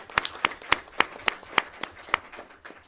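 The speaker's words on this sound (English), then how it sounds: "And a round of applause is fine." A small group at a county government meeting gives a brief round of applause, sparse separate claps in a loose rhythm, fairly close and without talk.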